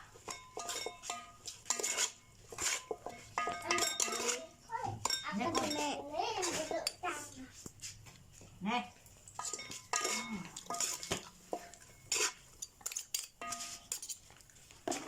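Plates, bowls and cutlery clink and clatter repeatedly while food is served out for a shared evening meal, with busy knocking and scraping close by as people talk over it.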